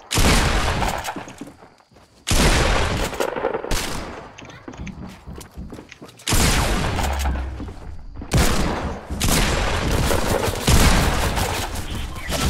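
Rapid gunfire from Fortnite battle royale combat, dense bursts of loud, close shots with cracks and impacts coming in waves across the span, short pauses between volleys.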